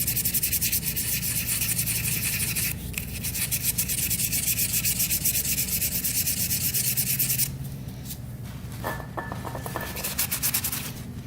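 Sandpaper rubs in quick back-and-forth strokes across rusty Honda CR250 dirt bike parts, a close, soft scratchy rasp that pauses briefly and then continues lighter, with faint clinks near the end.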